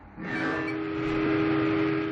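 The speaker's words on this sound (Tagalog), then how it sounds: "walang tigil sa pagbusina ang tren na yan habang umaandar hanggang sa bumangga sa SUV na nasa riles" A moving train in Utah sounds its horn without pause, a loud, steady tone held for about two seconds over the rumble of the train.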